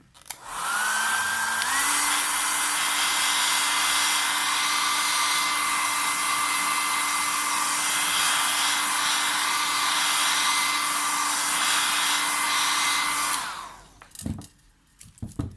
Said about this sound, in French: Petit coup de sèche-cheveux vite fait.